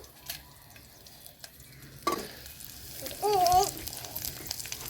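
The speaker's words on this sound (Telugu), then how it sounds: "కరివేపాకు వేసుకుందాం పచ్చిది ఇది" Fresh curry leaves and chillies drop into hot oil in a pan while making majjiga charu, a buttermilk curry, giving a sudden burst of frying sizzle after quiet stirring, with a brief louder crackle as they settle.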